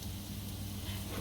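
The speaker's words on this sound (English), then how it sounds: "if it sizzles like it just did, it's ready" Flour drops dropped into hot frying oil, ready for frying chicken wings, give a steady, close crackling sizzle that holds evenly through the short moment.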